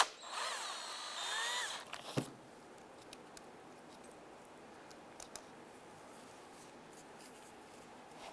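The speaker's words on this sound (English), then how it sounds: "Using our 10mm socket, go ahead and loosen this nut." Ratchet with a 10mm socket loosening a starter nut on a 1995-2001 Ford Explorer, a rapid close clicking burst for about two seconds, then quiet with a few faint taps.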